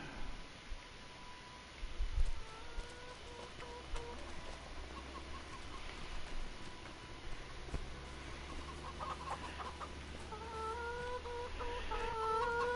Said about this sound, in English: And now we got a bunch of chickens in here.